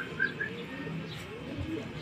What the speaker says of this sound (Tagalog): May mga ibon, no?